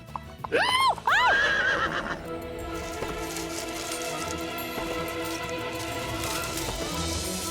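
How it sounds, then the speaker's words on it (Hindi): A horse whinnies loudly several times in quick rising and falling calls, then settles into a steady stream of hoof clip-clops over a constant outdoor background, with no talking. "घोड़ा तो खुद ही चल रहा है।"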